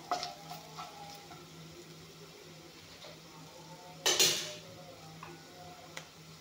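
Food being fried and stirred in a pan for a kuchia fish and coconut dish makes a faint, low sizzle, broken by a few light taps and one sharper scrape of a utensil against the pan.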